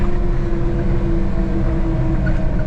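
A Honda Acty dump kei truck's small engine drones steadily at highway speed, a loud, close, even hum with road noise and no voices.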